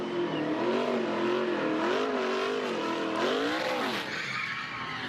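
Race car doing a burnout at Talladega after winning the ARCA General Tire 200, engine revving hard with a sustained wavering whine and tire squeal, close and loud, then easing off near the end.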